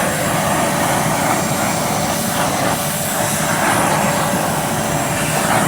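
A Ryobi 1500W wet and dry vacuum cleaning a car interior and seats, giving a loud, steady, continuous motor roar and suction hiss that never lets up.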